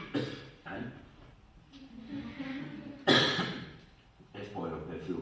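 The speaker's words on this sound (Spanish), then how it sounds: "Me da tos." A speaker at an academic forum presentation coughs, with two short coughs early on and a sharper, louder cough near the middle, separated by spoken remarks.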